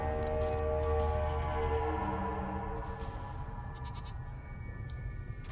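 A goat in The Witcher 3 bleats several times in quick succession over a steady game music and ambient bed, fairly close and clear, with no speech.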